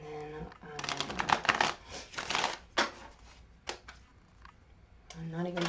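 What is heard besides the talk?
shuffling a tarot card deck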